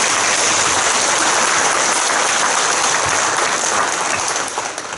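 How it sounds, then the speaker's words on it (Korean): Church congregation applauding in thanks for members who have served the church: dense, steady clapping that fills the space loudly and evenly, thinning slightly only in the last half second. "이분들에게도 우리가 그동안 교회를 잘 섬겨주셔서 너무 감사합니다 라는 박수로 한번 보여드립니다"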